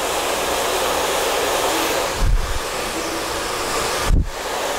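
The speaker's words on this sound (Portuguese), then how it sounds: "Olha como eu boto o secador bem perto da raizinha dela e estico da raiz pro meio." A handheld hair dryer blows steadily and loudly close to the hair roots during a wavy blowout, its whoosh continuous throughout, with two brief low thumps as the airflow shifts.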